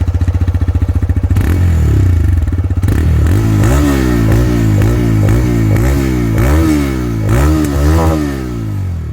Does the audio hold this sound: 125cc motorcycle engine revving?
yes